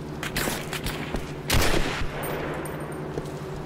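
Sniper gunfire in Turning Point: Fall of Liberty, an alternate-history shooter: several sharp shots crack out, the loudest burst landing midway, over a steady rumble of battle noise.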